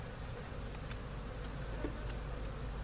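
Honey bees swarm around an open hive in autumn, producing a constant close buzzing hum with a few individual bees passing near.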